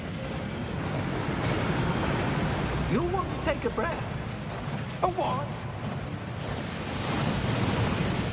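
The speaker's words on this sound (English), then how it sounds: "That waterfall washes away all enchantments." Rushing waterfall of the Thief's Downfall in a Harry Potter video game, a steady broad wash of falling water filling the scene while voices talk over it.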